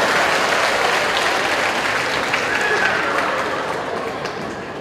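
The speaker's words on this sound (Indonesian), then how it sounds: "Tepuk tangan untuk suami Anda." Dense, sustained applause from a church or seminar audience, steady and loud throughout, slowly fading near the end.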